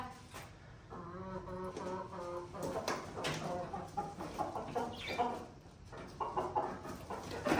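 Hens cluck repeatedly in short, rhythmic bursts nearby, with varied squawky calls overlapping against a faint background hum.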